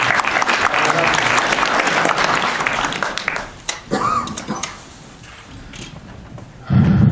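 An audience at a taxpayer award ceremony in Lviv claps in steady, dense applause that thins and fades out after a few seconds, leaving a quieter room before a brief thump and a voice near the end.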